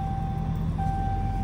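Dodge Hellcat fitted with a Corsa intake driving, a steady low engine hum with a faint high whine on top, short and fairly quiet, no talk.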